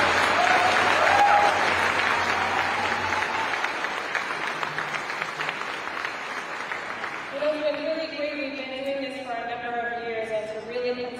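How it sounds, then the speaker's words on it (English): Crowd applause for organizers at a memorial march for missing and murdered Indigenous relatives, a broad wash of clapping that thins out as a voice begins speaking over the tail end. "So if we could just give a round of applause to everybody who works so hard."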